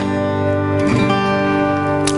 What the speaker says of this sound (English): And we strum all the strings.